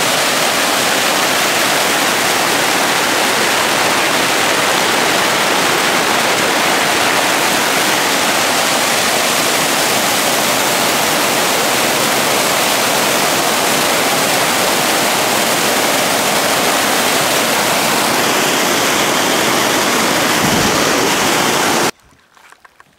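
Loud, steady roar of rushing whitewater on the Petawawa River in Algonquin, a dense unbroken wash that fills the scene for about twenty seconds before cutting off abruptly.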